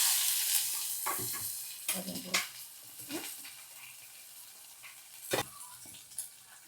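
Curry leaves frying in a pan for a Jaffna-style vathal kuzhambu, a faint crackling sizzle with a few louder stirring scrapes and bursts, close but quiet, fading toward the end.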